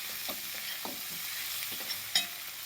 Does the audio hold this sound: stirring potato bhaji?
yes